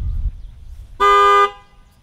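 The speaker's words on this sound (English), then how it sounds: "car horns" A man honking a car horn during horse desensitization training: one loud, steady half-second blast, close by, following a low rumble.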